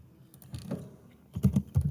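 Computer keys are typed in a soft patter, a few light taps at first, then a louder quick burst of keystrokes near the end, heard close and alone.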